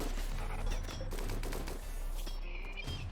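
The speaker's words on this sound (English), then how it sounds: "Mechanoids, go shoot the turret dummies and not the actual turrets." Mechanoids in the Rimworld video game fire at turret dummies, producing a faint, steady rattle of rapid gunfire over a constant low hum of game sound, with no talk.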